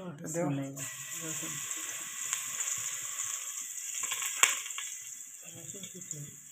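Garlic hitting hot oil in a pan while cooking koi fish, a sudden bright hiss that settles into a steady sizzle, with someone talking briefly at the start and again near the end.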